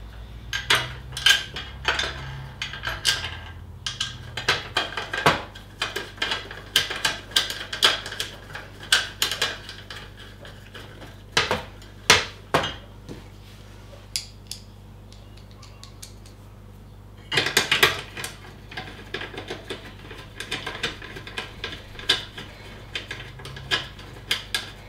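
Screws being fitted while assembling a Rusta gas and charcoal barbecue, a long run of irregular small metallic clicks, taps and rattles from close by, with brief quiet gaps between bursts.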